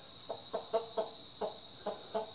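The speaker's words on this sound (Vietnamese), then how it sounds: "vừa mua thêm con gà trống sao các bác ạ, để mà buộc ở trong kia kìa" A rooster tied up in a rural yard gives a series of short, soft clucks, about eight evenly spaced calls over two seconds against a steady background hum, with no talk.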